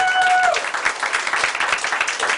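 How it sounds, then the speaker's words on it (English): Dense applause from an audience at a Fayetteville, Arkansas park board meeting, steady and fairly loud throughout, with a few brief cheering tones at the start before settling into continuous clapping. "Brought my own cheering section here"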